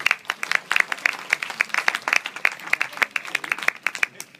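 An audience at a festival evening applauds steadily, many hands clapping in a dense, continuous burst that holds at an even level throughout.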